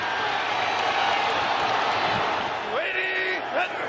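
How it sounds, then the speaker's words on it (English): A football stadium crowd roars in a steady wash of noise, likely chanting a player's name, with a commentator's voice running over the crowd. "Crowd chanting his name from the 30."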